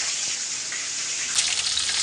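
Chicken meat frying in a pan on a rainy day, a steady loud hiss and sizzle running unbroken throughout, with a brief sharper crackle near the middle and no talk.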